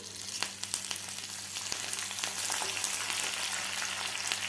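Garlic, curry leaves, dal and dried red chillies crackle in hot oil for a South Indian sambar tempering, a dense close sizzle with rapid spattering pops that holds steady throughout, no voices.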